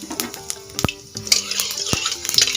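Cumin seeds hit hot oil in a wok and start to sizzle, with sharp clinks of a spoon or seeds against the metal, close up over a short span with no speech.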